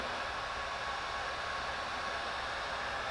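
A DeWalt 20V cordless heat gun runs on high heat at full fan speed, giving a steady, loud, unbroken whooshing roar throughout.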